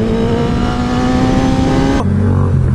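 An engine revs hard and steadily as a vehicle accelerates into a wheelie, loud and close, with the tone shifting abruptly near the end.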